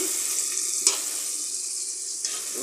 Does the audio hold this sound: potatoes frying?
yes